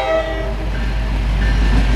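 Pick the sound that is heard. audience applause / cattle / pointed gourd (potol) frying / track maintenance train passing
track maintenance train passing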